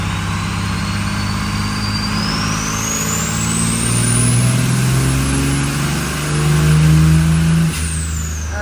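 A diesel truck with a VP44 injection pump and a turbo under test revs hard during a pull, its loud steady drone swelling twice with rising whine and rumble.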